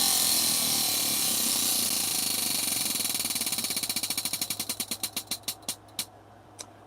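A prize wheel spun to choose a crochet stitch clatters against its pointer, rapid clicks that slow steadily and space out until the wheel stops, loud and alone.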